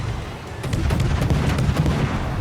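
Naval guns firing in the video game World of Warships, a dense run of rapid booming shots over a continuous low rumble, loud and close with no talking.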